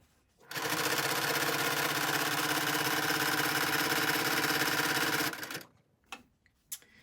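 A sewing machine runs steadily for about five seconds while stitching a folded fabric mask tie, giving a close, even mechanical whir that stops abruptly, followed by a few light clicks and handling sounds.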